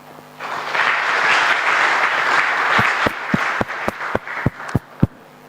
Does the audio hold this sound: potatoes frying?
no